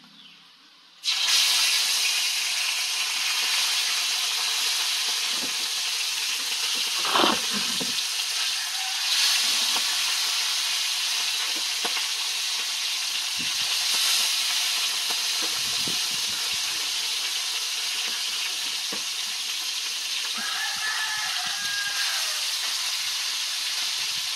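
Steady, loud sizzling of fish frying in hot oil fills the whole clip after a brief quiet start, with occasional faint clinks.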